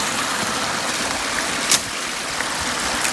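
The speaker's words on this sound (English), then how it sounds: "A little bit of extra flow of water here, that'll get some attention tonight" A steady rush of flowing stream water runs through the whole stretch at a beaver drowning set, with a close splash partway through.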